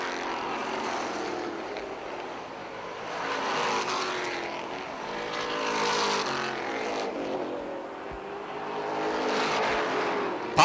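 Race cars on an oval track, a continuous engine roar swelling and fading as the pack passes, steady and fairly loud, no talk.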